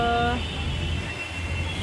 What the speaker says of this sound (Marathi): साकीनाका इथे भरपूर ट्रॅफिक आहे